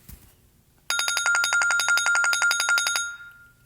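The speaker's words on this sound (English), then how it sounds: "And Playtime was a nice ringtone." Apple's Playtime ringtone plays loud and close as a rapid, bright run of chiming, bell-like notes for about two seconds, then cuts off. No one speaks over it.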